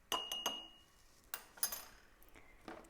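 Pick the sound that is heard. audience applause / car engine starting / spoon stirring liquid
spoon stirring liquid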